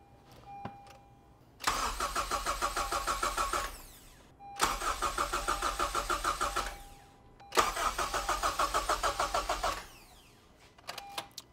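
A Honda K24 engine swapped into a CR-Z is cranked by the starter in three separate attempts, each a rapid rhythmic chugging lasting a couple of seconds, with no catch and quiet pauses between.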